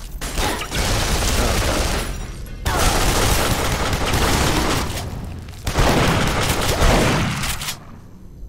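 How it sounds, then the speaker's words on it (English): Pipe bombs going off in Duke Nukem Forever: three loud, booming explosion bursts in quick succession, each with a rumbling, crackling tail, and a short startled voice between them. "Wasted a couple pipe bombs doing that."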